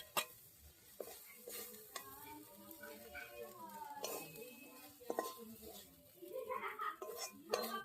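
A pan and cooking utensils give quiet, scattered clinks and scrapes as fried water lily flowers are lifted out, with faint sizzling and a soft voice now and then.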